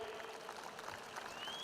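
An audience claps in a dense, steady patter at moderate distance, with no voices standing out.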